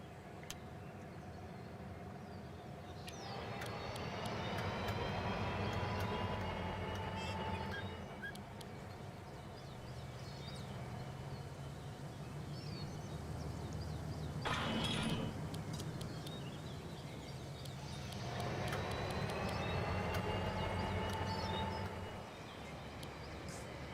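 A model train runs in the Rolling Line railway game, a steady rumbling roll with squealing, whining wheel tones rising and fading in waves and a brief clattering burst midway, continuous and moderately loud, with no talk.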